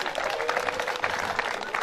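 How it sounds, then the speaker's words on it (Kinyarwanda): Wedding guests at a Rwandan ceremony break into applause mixed with high, wavering ululation, a brief, loud burst of clapping and trilling voices filling the room. "baguha amashyi menshi n'impundu"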